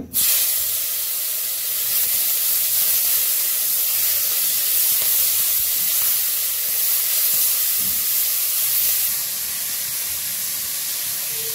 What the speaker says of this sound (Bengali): এখন চিংড়ি মাছগুলো দিয়ে দিব।